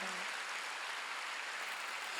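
Worshippers at a Wednesday evening church service clap together in a continuous, evenly textured burst of many hands, with no talk heard over it.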